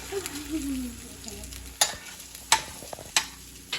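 Eggs frying in a home kitchen pan, a steady close sizzle with a few sharp scraping and tapping hits as they are stirred, no talking.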